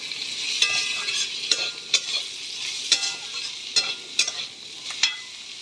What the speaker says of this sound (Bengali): একটু হলুদ দেবো ভালো করে ভেজে নেব